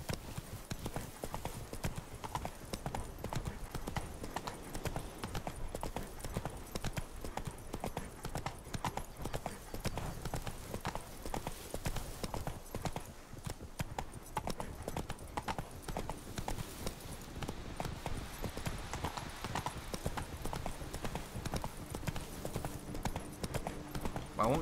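Galloping horse hooves from The Witcher 3 video game, a steady fast clip-clop rhythm running continuously and fairly loud throughout, with game ambience beneath.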